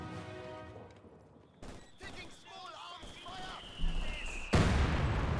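Mortar and gunfire in a Company of Heroes 2 battle, scattered impacts and shots over a noisy battlefield bed, with a heavier blast near the end, fairly distant and mid-level.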